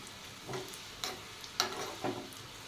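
Spices for dal khichdi tempering crackle and sizzle in hot oil, a few soft popping bursts spaced through a quiet kitchen background, close and fairly faint with no talk.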